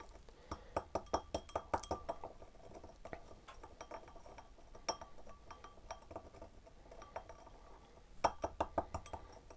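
A utensil stirs phenidone into propylene glycol in a glass container, giving quick repeated clinks and taps against the glass in uneven bursts, close and fairly quiet with no talk.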